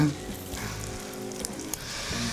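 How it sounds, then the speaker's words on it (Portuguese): Bolinhos fry in hot oil with a steady, crackling sizzle while someone talks over it. "Enquanto a gente vai fritando o bolinho aqui"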